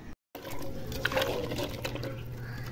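Cut papaya being washed in water, a close splashing and swishing of liquid with a brief gap near the start, then continuous sloshing and small clinks.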